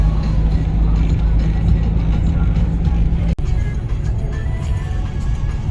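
A truck loaded with straw drives along a road, spilling some of its load. It gives a steady, close engine rumble with road noise and a short break in the middle, and someone talks over it.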